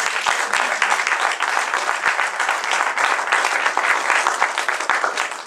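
A church congregation applauding in a worship service, dense, continuous clapping from many hands, loud and close for several seconds.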